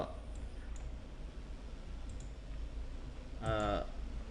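A computer mouse gives a quick burst of clicks while working in Vegas Pro 12 video editing software, near and crisp against a quiet room, with a voice talking faintly.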